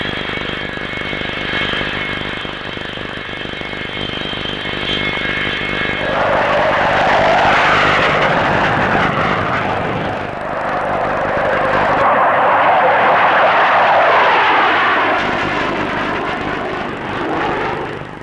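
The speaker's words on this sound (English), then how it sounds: "The Vickers N113 is a single-seat carrier-borne naval fighter bomber." A Vickers N113 single-seat carrier-borne naval jet fighter bomber flies past at a 1950s Farnborough air show, its loud, continuous engine roar swelling and shifting in pitch as it passes.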